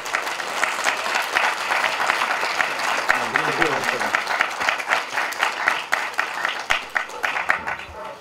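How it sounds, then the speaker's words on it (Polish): Audience applause at a marathon event honoring a runner, steady dense clapping from a crowd sustained throughout with a voice briefly audible underneath. "Jeszcze raz wielkie brawa dla Rysia"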